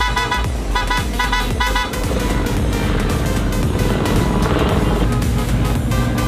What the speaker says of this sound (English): Dude, LAPD in the helicopter.